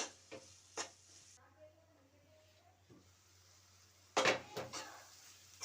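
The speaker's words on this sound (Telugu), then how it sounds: "సో ఐదు నిమిషాలకు ఒకసారి ఇట్లా కలపాలి" Carrot halwa being stirred in a pan: a few close scraping strokes near the start, then a quieter stretch with a voice speaking, then a louder cluster of scraping and clinking stirs toward the end.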